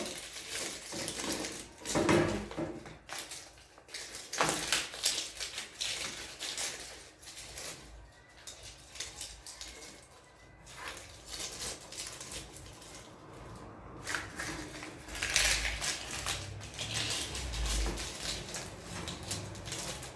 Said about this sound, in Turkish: Pet şişemizin alacağı kadar soğan kabuklarını içerisine basıyoruz.